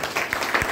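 A very brief burst of loud, dense applause from a seated audience at a Hindi-language health and business seminar, filling the whole moment with no pause.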